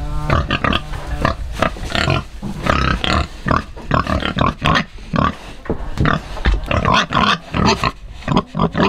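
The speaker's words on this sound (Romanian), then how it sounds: "Haideți să vedem și porcii." Pigs on a farm grunt and snort steadily and close by, with dense overlapping grunts filling the whole stretch and no talk.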